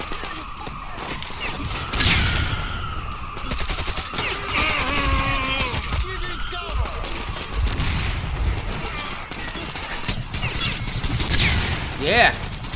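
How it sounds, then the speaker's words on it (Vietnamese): Gunfire in the video game Metro Exodus, with rapid bursts and loud shots crackling in sustained volleys through most of the stretch, while a voice talks over the action. "Thằng đó nó đang bắn cái gì mà dữ vậy?"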